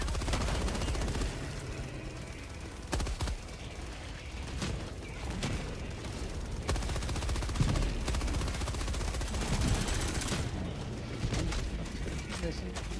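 A placed machine gun sentry in Helldivers 2 fires repeated bursts amid a busy battlefield, with sharp shots cutting through rumbling explosions and steady combat noise while players talk.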